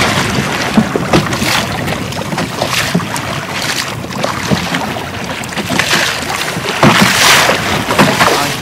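Small motor boat travelling along a river in Vietnam while out fishing with nets, a steady close engine drone mixed with water splash and strong wind buffeting, no talking.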